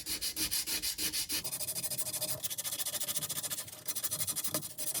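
Steady back-and-forth rasping of sandpaper rubbed by hand over hardened JB Weld epoxy inside a boat engine, close up and rhythmic, with no voices.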